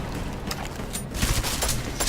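Gunfire in Deus Ex: Mankind Divided, a dense, loud barrage of overlapping shots and impacts forming a continuous rumbling volley, with a few sharper cracks standing out.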